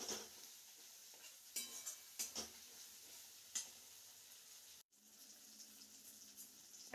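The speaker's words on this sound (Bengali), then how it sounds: "মটরশুঁটিটাও কিন্তু আমাদের মশলার সঙ্গে একটু কষিয়ে নিতে হবে।" Green peas being stirred and sautéed with spices in a hot pan, a steady quiet sizzle broken by soft scraping and clinks of a spoon against the pan, with no talking.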